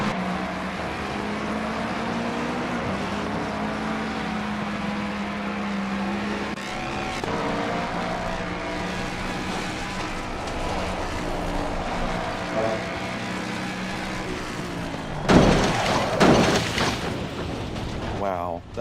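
Multi-car pileup in the Assetto Corsa Competizione racing game, engines droning steadily and close for most of the run before a sudden loud burst of crunching impact noise near the end.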